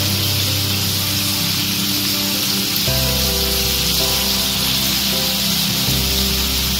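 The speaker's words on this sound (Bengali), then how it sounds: "এভাবে করে আমি সবগুলো ভেজে নিব" Chicken pieces deep frying in hot oil for KFC-style fried chicken, a loud, steady sizzle and crackle that fills the whole stretch without a break, with no talking.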